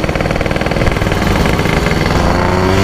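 A Yamaha RX Special 115cc two-stroke motorcycle engine and exhaust revving loud and close, a rapid pulsing rattle that climbs into a steady buzzing drone, with no talk.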